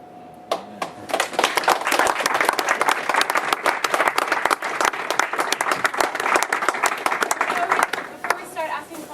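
Dense, close applause fills a lecture hall at Princeton, with many sharp overlapping claps holding strong throughout before thinning slightly near the end.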